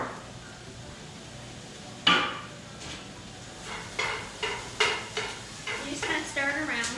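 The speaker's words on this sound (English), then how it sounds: "You just kind of stir it around." A spatula scrapes and clatters through beef stir fry seasoned with liquid aminos and pepper in a pan. One sharp first stroke is followed by a steady run of repeated close scraping strokes over a faint sizzle.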